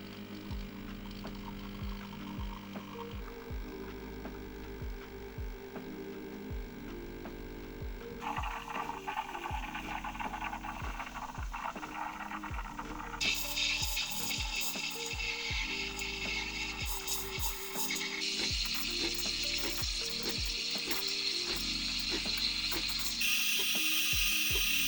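Several DeLonghi Dedica espresso machines run one after another for a noise comparison, each pump giving a steady mechanical hum and buzz with internal parts rattling. The tone and loudness shift as each machine takes over, with no talking.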